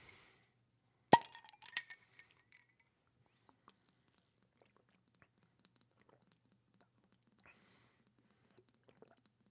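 Glasses clink together in a toast, a sharp bright chink followed by a few quick lighter clinks, then scattered faint ticks and taps in a quiet room.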